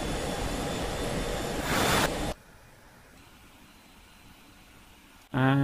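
An F-16C jet engine in DCS World roars as a steady broadband rush that swells briefly, cuts abruptly to a quiet low hum, then jumps back loud at the end.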